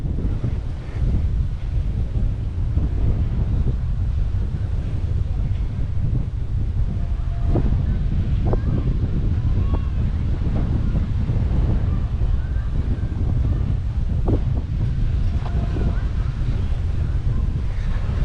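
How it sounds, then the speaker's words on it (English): Strong gusty wind on a beach at Margaritaville Cap Cana, Punta Cana, buffets the microphone steadily throughout, with a low roaring rumble and faint surf-like wash underneath, no clear speech. "It's really windy right in here."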